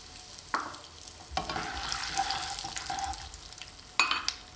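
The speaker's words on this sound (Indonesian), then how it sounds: "Untuk saus kacangnya, goreng 200 gram kacang tanah." Peanuts frying in hot oil in a wok, with a steady close sizzle broken by a few louder scraping stirs of a spatula.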